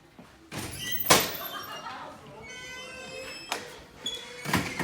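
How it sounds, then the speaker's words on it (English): A door opens with a few dull thumps and bursts of broadband clatter spread across the clip, set in a staged dramatization of Macbeth's witches' scene, with faint tonal sounds lingering in between. "Doors open to whoever's knocking."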